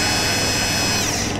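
A steady, continuous whir of a power tool driving out bolts from a headlight projector housing, close and loud throughout without talk.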